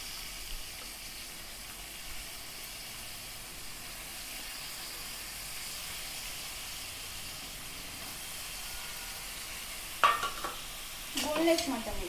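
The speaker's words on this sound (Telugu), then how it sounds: "మటన్ వేస్తున్నా" Washed mutton frying in a pan, a faint, steady sizzling hiss, with a few clattering stirring knocks near the end.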